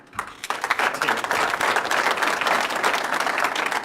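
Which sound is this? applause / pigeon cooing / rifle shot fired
applause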